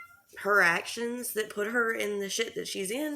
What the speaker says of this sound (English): if you hear background noise, that is the cat because she's nuts.